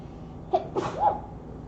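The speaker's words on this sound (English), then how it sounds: "That was a real sneeze" A single close sneeze with a quick breathy intake and a sharp burst, alone against quiet room noise.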